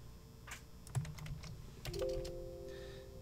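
Computer keyboard keys tapped in a quick, irregular run of soft clicks, followed by a faint electronic tone, all fairly quiet.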